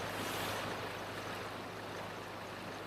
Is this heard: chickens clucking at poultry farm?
no